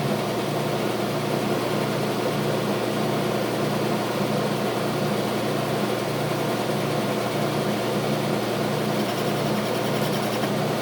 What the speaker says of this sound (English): Running about 450 RPM on this thing, and it's cutting the crap out of this metal